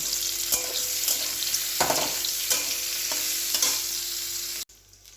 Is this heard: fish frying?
yes